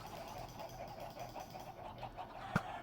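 Minecraft chickens clucking softly in a steady low murmur, with one brief sharp hit near the end as a chicken takes damage in the video game.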